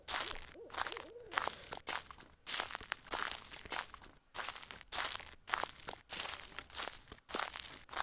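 Footsteps in the horror video game Slender crunch in a steady rhythm, one after another as though over leaves or gravel, loud and close.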